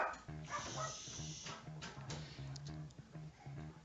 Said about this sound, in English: there go one of the dogs letting us know that they are here and there's somebody outside